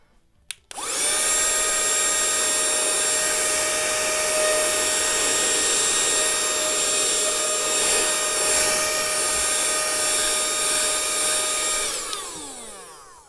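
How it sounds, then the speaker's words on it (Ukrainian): An Aurora cordless vacuum cleaner switches on with a click and runs as a loud, steady high-pitched whine while sucking up fine shavings, then spins down at the end, with no talking. "От включаємо і зразу прямо біля вас показую, як він пилососить."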